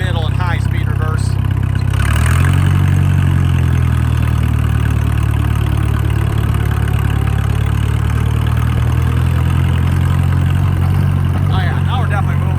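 A John Deere 2010 tractor engine drones loud and close as it rolls along in gear, with a steady low rumble and a slight rise in pitch, while someone talks over it.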